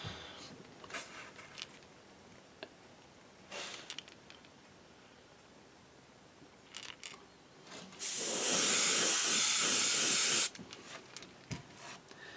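A Neoeco airbrush lays down a burst of base-coat paint on fishing lures at about 25 to 26 psi, a loud steady hiss lasting a couple of seconds, with quieter short puffs and handling noises before it.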